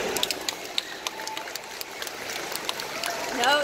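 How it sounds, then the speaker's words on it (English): Audience applause at a zoo dolphin show, a steady wash of many hands clapping in a large outdoor stand, with scattered sharper claps and a brief voice rising at the end. "make some noise. Put your hands together."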